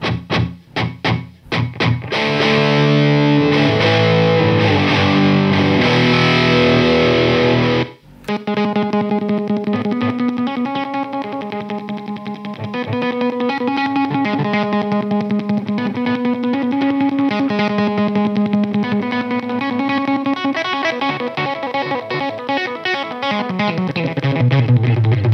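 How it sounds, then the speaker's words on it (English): Boss DD-8 delay pedal on a guitar rig: loud distorted electric guitar riffs with quick, intense repeating echoes, a short break after a dense opening, then steady rhythmic playing with no talk. "So that's the delay sound."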